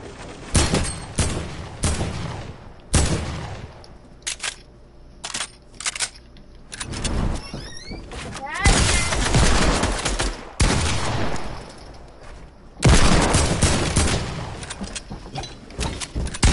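Infantry rifle fire in a console shooter game: sharp bursts of gunshots in irregular clusters, loud and close, with brief mechanical clicks and quieter gaps between volleys.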